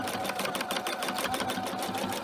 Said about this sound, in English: I'm going to start at the top here and about 1/4 of an inch, and I'm going to start sewing